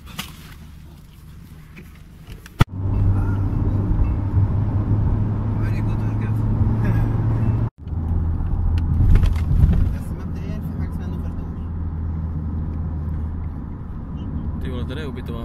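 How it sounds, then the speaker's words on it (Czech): A hitchhiked car drives along a road in Egypt, its engine and tires making a steady loud rumbling drone from inside the cabin, with people talking over it at times. "Pak jsme si stopli auto."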